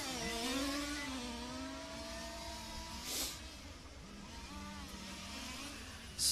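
Large-scale RC race cars from touring-car and F1 classes snarl around a track, their small engines rising and falling in pitch as they pass, with a steady distant drone between passes.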